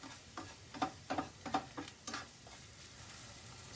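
Ginger frying in a pan, faint soft crackles and ticking pops in a short irregular cluster that fade into quiet sizzle.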